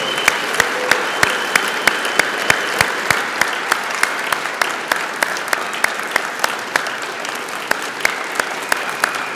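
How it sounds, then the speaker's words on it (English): An audience at a sports hall of fame induction ceremony claps for the inductees, with loud, sustained applause that stays dense and even throughout and a few sharper individual claps. "Let's have a round of applause for all of our 2021 inductees."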